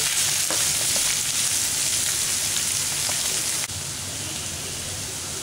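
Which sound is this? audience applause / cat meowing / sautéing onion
sautéing onion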